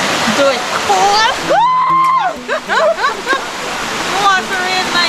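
A hidden waterfall reached on a hike pours with a steady, rushing roar that fills the whole scene. Voices talk and exclaim over it throughout.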